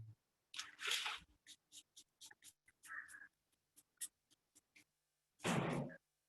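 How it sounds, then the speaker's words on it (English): Quick bursts of water spray misting cocoa peat potting mix in a punnet, a few short hissing puffs near the microphone with soft damp clicks and dabs between them. "now I'm going to very quickly spray just enough water to moisten"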